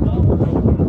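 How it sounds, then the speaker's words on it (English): Strong wind gusts hard against the microphone in a steady, loud buffeting rumble with slight surges, heard up close and without voices. "it is awfully windy all the time"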